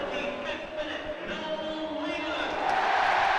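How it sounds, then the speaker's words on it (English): Football crowd at the Riverside stadium cheering a Middlesbrough goal in an FA Cup quarter-final, a broad distant roar that swells toward the end, with commentary over it. "They're cheering at the Riverside"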